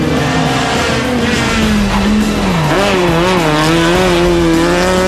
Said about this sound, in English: That's Lemes in his Honda